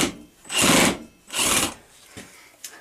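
A power drill drives a Robertson screw into wood in two sustained whirring bursts followed by a short final pulse, loud and close with quiet gaps between.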